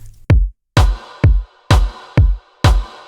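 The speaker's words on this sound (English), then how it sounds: "I've added a thumpy kick and a washed out snare," Stutter house groove built from a thumpy kick and a washed-out snare, loud alternating hits in a steady beat with short gaps between them.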